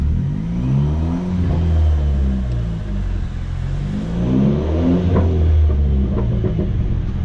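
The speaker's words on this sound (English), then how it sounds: "doing rev bombs in the tunnel" Car engine rev bombs echo through a tunnel, a BMW 1 Series 114i nearby, loud rumbling revs surging and dropping repeatedly with crackling bursts throughout.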